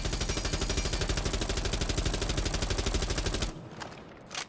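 Senza's rifle in Rainbow Six Siege, fired on console, lets off a loud, rapid unbroken burst of automatic shots for over three seconds, then falls silent apart from faint handling noises.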